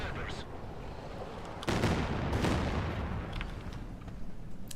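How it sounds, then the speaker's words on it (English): A Katyusha rocket artillery barrage in the strategy video game Company of Heroes 2 arrives as a dense rumbling roar of overlapping blasts that swells midway through and stays sustained behind the general battle din. "Katyusha targeting the pack once again."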